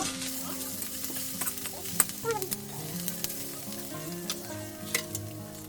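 Ground coriander, cumin and turmeric frying in a pan, a steady close sizzle with light stirring scrapes running throughout and no talk.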